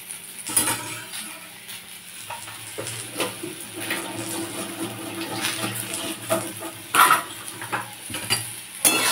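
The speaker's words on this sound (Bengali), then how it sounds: "এবার নুনটাকেও কুলের সাথে মিশিয়ে নিলাম" Salt stirred into plums for a plum pickle, with steady scraping and stirring in a bowl, close and moderately loud, with a few sharper clinks and bumps.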